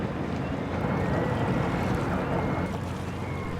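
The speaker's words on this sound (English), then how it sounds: "I watch one boat lay out its net." Gillnet fishing boat laying out its net for herring at sea in the Strait of Georgia, a steady low engine drone mixed with wind and wash of water, continuous and fairly close.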